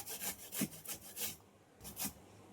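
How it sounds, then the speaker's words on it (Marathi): Raw green mangoes are grated by hand in short rhythmic rasping strokes, close and quiet, with a brief pause before the last two scrapes. "मी कैऱ्या किसते ना"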